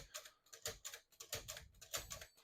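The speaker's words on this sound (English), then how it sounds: "I'm just going to clear each one of those by hitting that CL button" A 1955 Smith-Corona Silent-Super portable typewriter has its tab stops cleared with the CL button: a quick string of faint mechanical clicks and clacks close by, with no talking.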